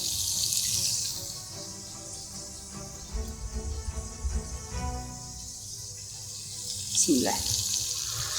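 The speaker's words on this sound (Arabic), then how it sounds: "وبنضيف المية الساخنة على اللي هو المقدار نتاع اللي في الطنجرة" Hot water pours into a cooking pot of spiced rice for a Libyan nut rice dish, a steady splashing stream running most of the clip under a brief spoken phrase, ending with a short rising gurgle.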